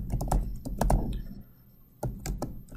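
Rapid clacking keystrokes on a computer keyboard, close and crisp, in two bursts separated by a short pause, with no talking.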